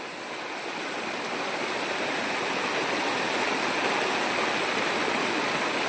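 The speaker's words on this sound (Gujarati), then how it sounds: "आज पाणी आव्या छे नदीमां ने बधे" Loud, continuous rushing of a swollen river, a dense steady roar with no pauses and no voices.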